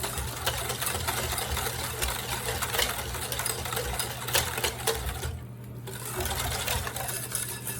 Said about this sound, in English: Whisk it together until it's fully